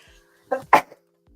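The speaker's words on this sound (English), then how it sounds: "I'm about to sneeze." One short, sharp sneeze, close and fairly loud, with a softer breath just before it, against near silence.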